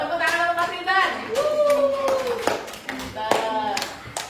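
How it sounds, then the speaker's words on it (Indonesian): A school class claps for a pupil, several hands beating in loose rhythm while children's voices chatter and call out over the clapping. "tepuk tangan untuk Mas Intan"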